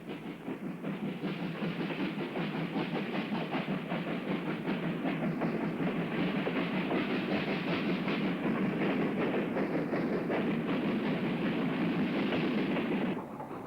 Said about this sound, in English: Sister locomotive 45605, Cyprus, requires 2 bankers.